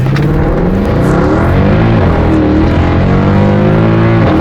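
Mercedes-Benz C63 AMG W204 in Sport Plus mode accelerating at full throttle, its engine roar climbing steadily in pitch, loud and close throughout with no talking.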